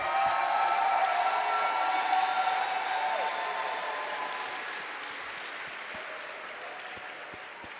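Audience applause at a Sunday gospel jazz service in Syracuse, New York, sustained clapping from a crowd that slowly fades over several seconds.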